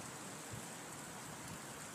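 Heavy rain from Hurricane Sandy in Maryland pours down in a steady, dense hiss with wind, an unbroken wash of noise with no voices.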